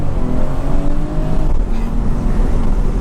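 A BMW 340i with a B58 engine revs up and launches hard, a loud, rising roar close to the microphone.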